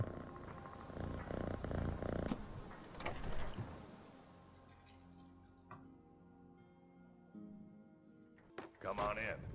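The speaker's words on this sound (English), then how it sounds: "Oh, I get to pet the kitty." A cat purring while being petted inside Skyrim VR, a low steady rumble that runs beneath game sounds and ambient noise, with a voice talking over the early part.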